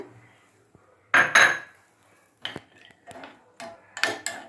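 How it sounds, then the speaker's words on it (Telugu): Cashews dropped into three spoons of hot ghee in a small pan while making sweet pongal: a few close, sharp clattering bursts with a brief sizzle, separated by quiet pauses. "ఇదిగండి నెయ్యి కాగింది ఈ జీడిపప్పు దీంట్లో వేసేద్దామండి"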